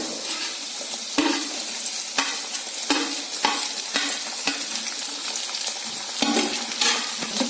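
Sliced ginger and green chili fry in hot oil for an anchovy pickle, giving a loud, steady sizzle broken by regular scraping stirs of a spoon in the pan.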